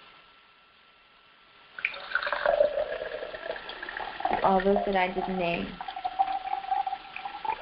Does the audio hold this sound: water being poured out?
yes